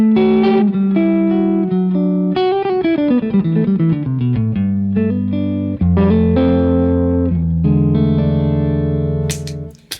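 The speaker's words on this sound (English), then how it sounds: "go for a EP style boost on the ZIO" Clean electric guitar through a ZIO boost pedal set for an EP-style boost: loud, sustained chords and melodic runs, including a descending phrase and deep low notes, played alone with a brief scrape at the end.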